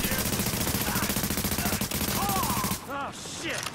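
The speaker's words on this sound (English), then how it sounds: "Apex, please start shooting." Rapid automatic gunfire in The Division on Xbox One, a dense close fusillade of repeated shots for nearly three seconds before cutting off to quieter game sounds.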